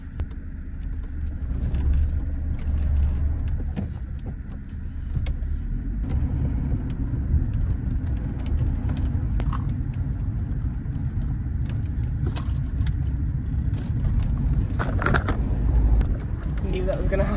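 A car driving to the shops, with a steady low road rumble and engine drone throughout and occasional small rattles and clinks inside the cabin, no talk heard.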